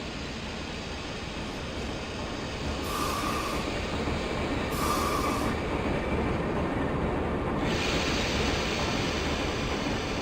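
An Alco RS11 diesel locomotive, set up as a heavy Pennsylvania Railroad road switcher, rumbles steadily with a constant rolling drone in a train simulator game near the Altoona yard.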